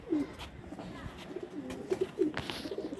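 Pigeons coo softly in a loft, several short throaty coos repeating over a quiet background with light shuffling, no talking.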